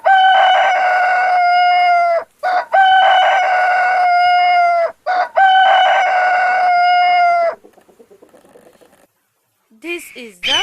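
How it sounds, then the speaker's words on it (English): A rooster crows three times in succession, each a loud, long, close call with a drawn-out ending, followed by quieter clucking and a brief final squawk. "rooster."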